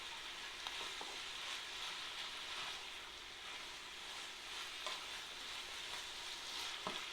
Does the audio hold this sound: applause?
no